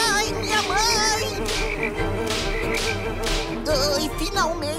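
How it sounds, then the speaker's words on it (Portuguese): Cartoon frogs croaking in a dense chorus of repeated warbling calls, loud and close, layered over background music with no talking. "O que foi isso agora? Os sapos!"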